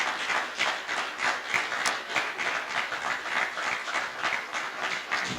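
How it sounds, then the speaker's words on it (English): An awards ceremony crowd claps for resident association chairpersons, a thick, fluctuating wash of many hands that swells and dips in rhythmic pulses throughout, loud and close. "Give him a round of applause"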